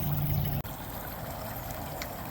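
Muddy, cloudy water runs steadily from a pond along a freshly dug channel, a constant close trickling rush with one brief break.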